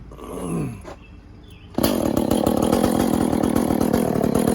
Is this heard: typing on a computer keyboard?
no